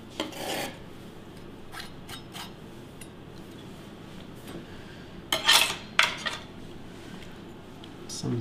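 Citron being zested on a grater in a Belgian Michelin-star restaurant kitchen for ossobuco: scattered short scraping rasps, a few sharper and louder bursts near the end, with faint kitchen clatter between.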